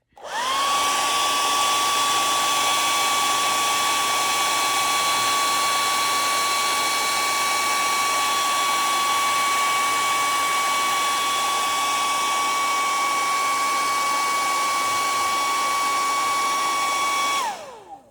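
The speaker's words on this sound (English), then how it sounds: "So now before I go on to the next step, I have to use the hair dryer." A hair dryer blows steadily and loudly with a high whine for about seventeen seconds while drying a watercolor painting, then switches off.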